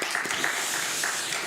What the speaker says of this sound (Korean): 우리 한번 박수로 한번 그 자리에서 한번 일어나 주시면 박수로 한번 환영하도록 하겠습니다